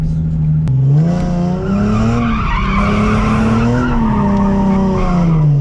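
A Nissan 370Z spins donuts, its engine holding a steady high rev while the tires squeal and skid continuously, loud and close throughout.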